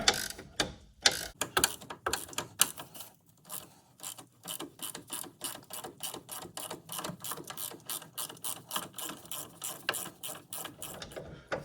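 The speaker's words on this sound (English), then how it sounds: "this will spin the nut in the opposite direction, and eventually it will feed the nut through" A ratchet wrench clicks rapidly as it spins a nut off a control arm bolt on a Saturn Vue, giving a long run of steady, close, sharp ratcheting bursts with brief pauses.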